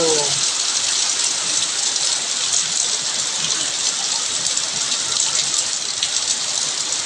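Heavy rain pours onto a tin roof in a village during a storm, a dense, unbroken hiss that stays loud and even. A voice is heard briefly at the very start.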